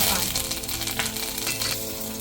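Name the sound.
mustard seeds and spices sizzling in hot oil for dal tempering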